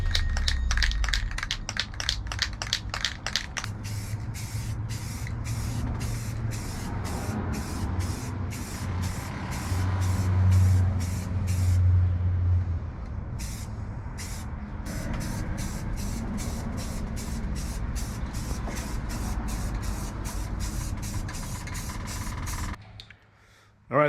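Spray paint can hissing as primer and paint go onto a Frisco motorcycle tank outdoors, a steady close spray in repeated bursts broken by short pauses, with no talking.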